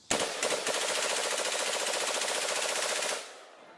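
A sustained burst of rapid automatic machine gun fire lasting about three seconds, loud and close, with the rattle cutting off abruptly into a brief fading tail; no voices.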